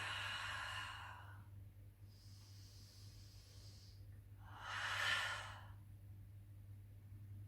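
Slow, audible breaths during a Pilates arm and shoulder exercise: a long, breathy exhale opens, a softer airy breath follows, then a second full exhale, all close and quiet with no talking.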